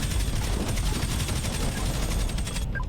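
Rapid turret gunfire in the space game Pirate Patrol, a dense, continuous rattle of shots that stays loud and even throughout.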